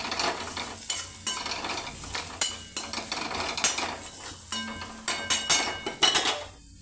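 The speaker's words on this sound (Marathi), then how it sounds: "आता त्याच्यामध्ये मी तिखट वगैरे सगळं हे मसाला करून टाकते, चांगलं भाजून घेते" Onion and masala being fried and stirred in a pan for potato bhaji, with soft sizzling under repeated spatula scrapes and taps against the metal, close and moderately quiet.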